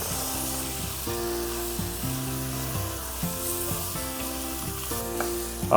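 Spices and a little red pepper sizzle loudly in hot oil in a pan for plov, with a steady close frying hiss and light scraping as they are stirred.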